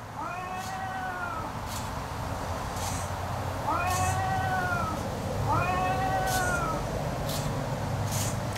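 Three drawn-out electronic cat meows from an animated Halloween tombstone prop repeat at steady intervals over a low mechanical hum, loud and close with a slightly synthetic tone.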